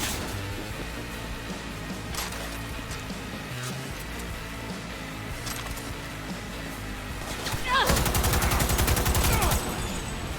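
Weapon gunfire in a video game demo at Gamescom 2025: busy, steady combat noise with scattered shots, then a loud, rapid burst of fire in the last few seconds.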